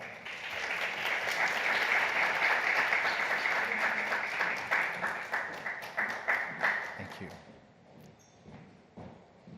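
Audience applause at a women-in-entrepreneurship conference session as a speaker is called on stage, loud and sustained clapping that thins into scattered individual claps before fading out.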